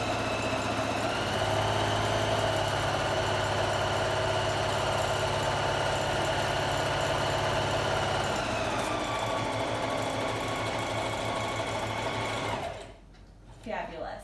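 A sewing machine stitches fabric along a 5/8 seam allowance for a tote bag, humming steadily for about twelve seconds with a shift in speed partway through, then stopping abruptly, followed by brief quiet handling.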